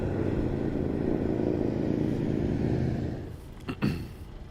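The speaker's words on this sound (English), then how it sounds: "Usually this bike sounds really good and runs really well." A land speed racing motorcycle at El Mirage dry lake with an engine running poorly, roaring steadily close by, then fading out before a brief sharp burst near the end.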